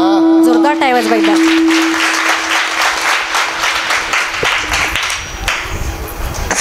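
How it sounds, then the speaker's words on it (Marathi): A kirtan audience breaks into loud, sustained applause, many hands clapping in a dense, continuous wash that gradually eases; a sung tone and a short vocal phrase ring out over the start. "जोरदार टाळ्या वाजवा."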